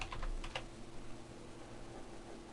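Rapid keystrokes on a computer keyboard during CAD software data entry, a quick burst of clicks at the start fading to steady low hum, close and fairly quiet.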